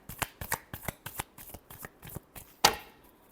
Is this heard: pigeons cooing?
no